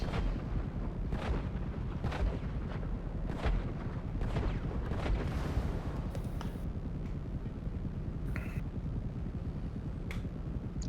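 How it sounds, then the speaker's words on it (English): Rocket launch and blast in GTA Online: a dense, continuous barrage of booming and crackling game gunfire and explosions fills the scene, with sharp repeated hits standing out over a steady loud rumble, no voices. "Who the fuck just shot a rocket at me?"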